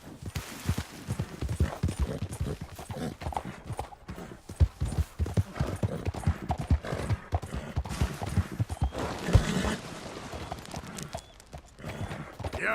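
Horse hooves clip-clopping in Red Dead Redemption 2, a steady trotting rhythm of hoof beats close up, with a snort or whinny and brief speech in the mix.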